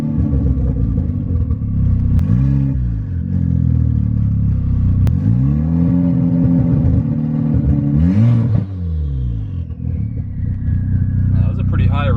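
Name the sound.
VW MK6 Golf R engine revving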